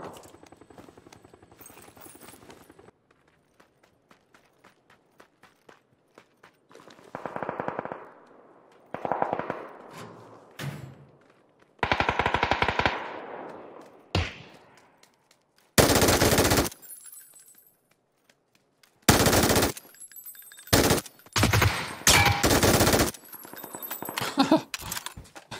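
An MG3 machine gun in the video game PUBG fires in a series of loud automatic bursts. The bursts are separated by quieter gaps and grow longer and denser toward the end.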